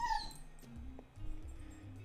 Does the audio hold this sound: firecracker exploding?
no